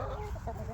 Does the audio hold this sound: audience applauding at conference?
no